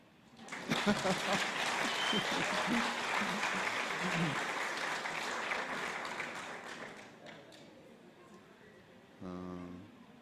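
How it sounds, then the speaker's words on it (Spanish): A church congregation at a special service claps in a steady burst of applause for several seconds, thinning toward the end as a voice begins speaking. "¿No me va a dar aplauso?"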